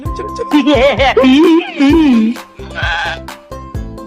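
A goat bleats loudly and wavering, several drawn-out cries close by, followed by a few shorter calls.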